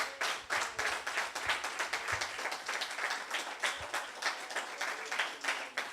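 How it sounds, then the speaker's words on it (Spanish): Rhythmic hand clapping from a church congregation, steady and even in tempo, with no voices over it. "Dale un aplauso al Señor."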